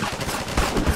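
Rapid automatic gunfire in Garry's Mod, a loud close burst of quick repeated shots in an even rhythm filling the whole moment, without talk.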